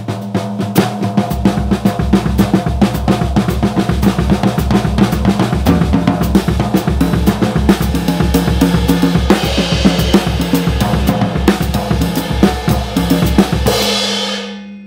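A busy linear drum groove with rapid down-up hand strokes and low kick drum thumps slipped between them, loud and driving, with cymbal wash building near the end.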